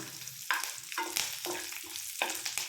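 Curry leaves dropped into hot oil in a pan, with dry coconut roasting for chutney powder, crackle and sizzle in sharp bursts amid steady frying and stirring, close and fairly quiet with no talk.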